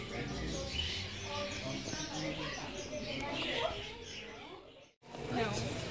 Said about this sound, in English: I'm sorry about the noise about the birds